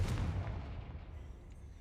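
An explosion spell cast in a Harry Potter video game: a deep, booming blast up close that rolls off and fades over about two seconds, with no talk over it.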